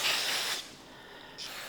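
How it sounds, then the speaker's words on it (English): Aerosol cleaner sprayed onto a Mercury outboard motor carburetor during a rebuild, two short hissing bursts close to the microphone with a quieter gap between them and no voices. "Spray it over here."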